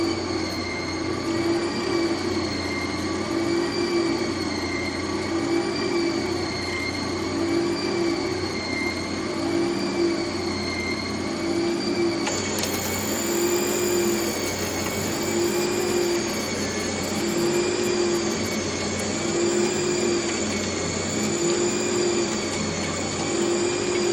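A machine cutting a .375 Raptor rifle barrel gives a steady, loud, continuous mechanical whine with tonal hum that persists throughout, its pitch briefly shifting partway through, with no talk.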